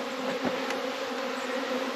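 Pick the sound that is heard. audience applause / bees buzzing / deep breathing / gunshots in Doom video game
bees buzzing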